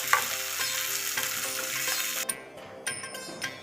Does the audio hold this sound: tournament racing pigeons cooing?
no